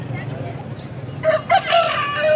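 A rooster crows at a chicken stall selling desi and Aseel chickens in a busy old-city market in Multan, its call rising over steady crowd noise and low rumble, fairly close.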